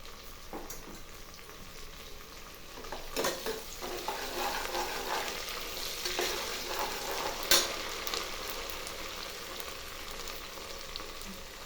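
Curry leaves sizzle in hot oil in a pan for tamarind rice, a steady crackling fry broken by scraping stirs and occasional sharp pops, close and alone without talk.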